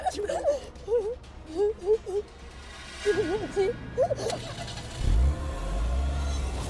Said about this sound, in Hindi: गाड़ी चलाओ ना, चलाओ रिया, प्लीज चलो